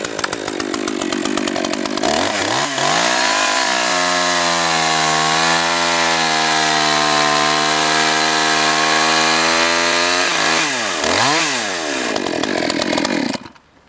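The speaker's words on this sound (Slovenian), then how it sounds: "Pozorni bodite na izmet žagovine in kako motorno žago vleče v smer hloda." Chainsaw cutting into a log: a loud, close engine roar that drops into a steady, laboring bog as the chain bites through the wood, then revs back up as the cut ends.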